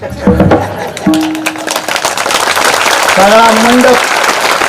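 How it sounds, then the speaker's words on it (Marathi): An audience claps during a kirtan, a dense patter of many hands that carries on throughout while a voice sings or calls out over it. "ह्या टाळीचं नाव आहे हलकट टाळी."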